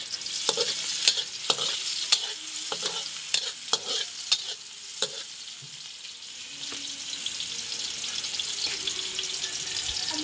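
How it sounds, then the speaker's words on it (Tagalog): Garlic, then onion, stir-fried in a home kitchen pan: steady close sizzling under repeated sharp scrapes and clacks of a utensil against the pan, busier in the first half, with faint running-water sounds and no talk. "hintay natin pumula ang bawang, saka natin ilagay ang sibuyas."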